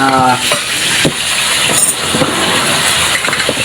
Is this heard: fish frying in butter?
yes